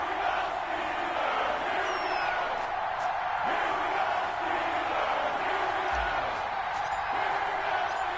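A stadium crowd in an EA Sports NFL video game, Minnesota Vikings against Pittsburgh Steelers, roars in a steady, dense wash of cheering that holds constant throughout, with faint scattered shouts rising from the mass.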